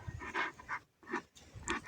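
A dog pants in quick rhythmic breaths, close and moderately loud, with a short pause partway through.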